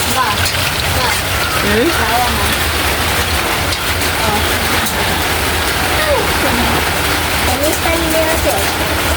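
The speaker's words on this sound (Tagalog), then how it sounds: "Grabe yung ulan mga idol." Heavy rain pours down steadily and loudly throughout, a dense continuous roar of water hitting surfaces, with a brief voice murmuring over it.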